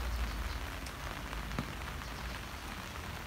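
Steady rain patters on a hard surface at a laborers' work site, a dense continuous hiss with a few louder drops, no voices.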